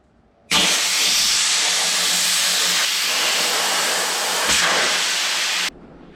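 Air hissing out of an old wheel as the tire valve is removed: a loud, steady, close rush of escaping air that starts abruptly, holds for about five seconds, then stops sharply.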